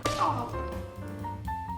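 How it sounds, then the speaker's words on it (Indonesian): A sharp slap in the film Tombstone lands right at the start, followed by a dramatic music score that carries on steadily underneath. "Lalu Wyatt menamparnya dan menyuruhnya pergi."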